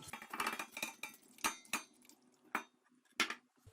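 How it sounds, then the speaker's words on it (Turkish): Several sharp clattering knocks against a metal pot as about 2 kilograms of sour cherries are tipped in, spaced irregularly, with a soft rattling of cherries tumbling in between. "Şimdi bunları tencereye alıyorum."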